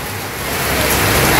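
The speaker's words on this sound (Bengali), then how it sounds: "সাধু, কেমন বৃষ্টিতে কেমন লাগে" Heavy rain pouring down in a Bangladeshi village, a dense continuous rush that swells slightly louder over a moment, with no voices.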